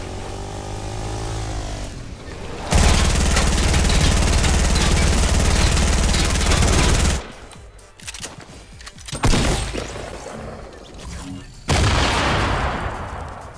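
Shotgun fire in Fortnite, a legendary pump-action model, comes as loud dense bursts of gunfire, the heaviest and longest spanning several seconds, followed by shorter sharp blasts and a final loud burst, with no talking.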